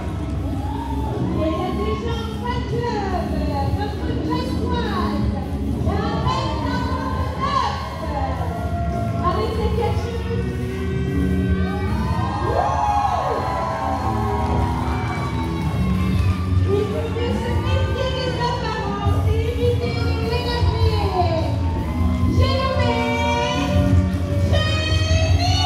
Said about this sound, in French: Jiminy applaudi par le public brestois